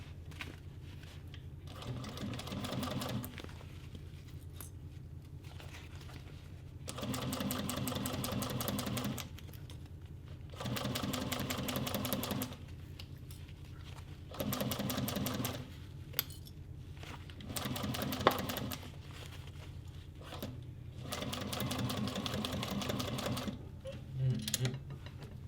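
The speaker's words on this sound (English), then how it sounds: "now I can just top stitch along this edge at about 1/8 of an inch seam allowance" Leather two-toned boxy bag being top stitched on a heavy-duty sewing machine, running in several steady mechanical bursts of rapid stitching separated by short pauses, close and fairly loud with no talking.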